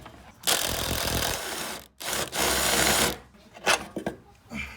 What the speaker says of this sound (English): Mad drill power.